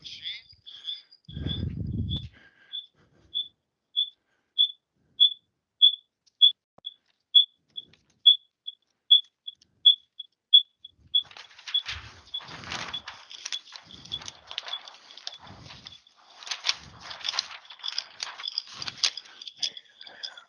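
Canon Océ PlotWave 5500 wide-format printer starting a job: a steady series of faint, evenly spaced beeps for about ten seconds, then quiet irregular mechanical rustling and clattering as the machine runs.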